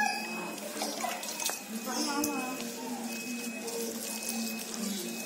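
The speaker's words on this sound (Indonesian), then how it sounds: "Siram sampai merata semua." Water is poured over a young Cavendish banana plant growing in a polybag, a soft steady splashing and trickling that runs throughout, with faint voices in the background.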